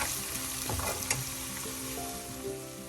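Curry leaves and green chillies sautéing in hot oil for a crab roast, a steady close sizzle and crackle with a few stirring scrapes, no voices.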